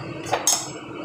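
A metal utensil clinks twice, short and sharp, against a pan of spiced curry with a little boiled water mixed in. The clinks are fairly quiet and there is no talking.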